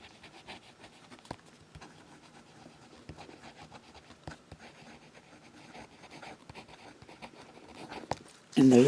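A fine-nib fountain pen scratches quickly across paper in short, dry strokes with soft ticks between them, faint and close, before a louder sound cuts in at the end.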